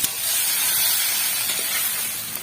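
Pork meat dropped into a hot pan of fried onions, giving a steady, loud, close sizzle with a bright hiss that runs throughout with no talking.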